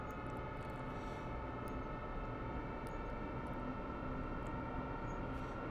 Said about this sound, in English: It is time to drive the train very fast.